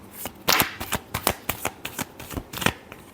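A deck of tarot cards is shuffled in a quick series of crisp riffling bursts, about a dozen sharp flutters close to the ear, one louder burst near the start.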